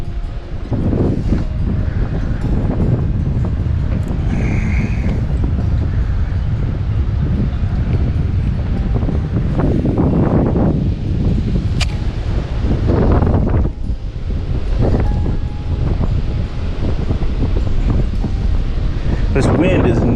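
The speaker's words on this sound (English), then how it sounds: "This wind is nuts." Strong gusty wind roars across the microphone beside a flooded creek during a paddling fishing trip, a loud continuous rumbling buffet that swells and eases with occasional water splashes.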